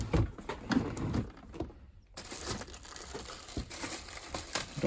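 Plastic bag splash guard inside a Good Ideas twin tub washing machine crinkling and crushing in close, irregular bursts, with a brief quiet gap midway before the rustling resumes.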